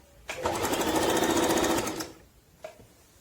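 Singer Talent 3321 sewing machine running a decorative stitch, a loud steady motor whir with a rapid needle chatter for about two seconds, then a short single clack.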